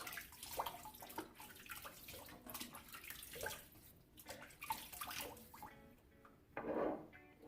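Water splashed onto the face at a sink during a wet shave, a series of close, soft splashes and running-water sounds, fairly quiet, with no talking.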